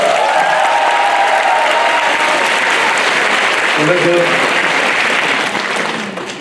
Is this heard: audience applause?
yes